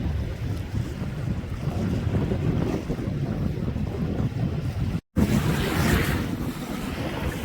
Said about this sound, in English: The farther I go out into the point, the wind picks up.